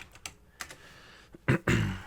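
Keystrokes on a computer keyboard, scattered taps followed by a quicker, louder burst of typing, close and clear with no voices.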